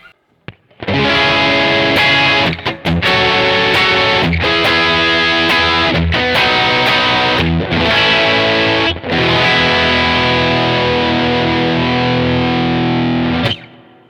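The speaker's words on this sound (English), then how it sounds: "The fuzz right here, this is the JHS mini foot fuzz." Electric guitar played through a JHS Mini Foot Fuzz pedal, giving a harsh, sharp, saturated fuzz tone; sustained chords ring loud and continuous for about twelve seconds with brief dips between strums, then cut off cleanly.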